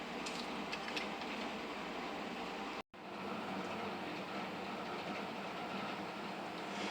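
A small Lionel Yuletide model trolley car hums steadily along its track, a faint continuous motor whir with one brief dropout.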